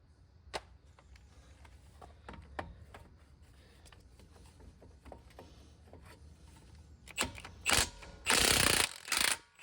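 A ratchet clicks in short, uneven bursts loosening 24 mm automotive strut bolts, quiet at first, then louder, rougher grinding and cranking toward the end, with no talking.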